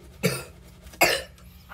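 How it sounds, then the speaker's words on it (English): A person coughs twice, about three-quarters of a second apart: two short, sharp, close bursts over a quiet background. "Every time you go to your mama, you start coughing."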